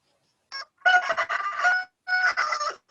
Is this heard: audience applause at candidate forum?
no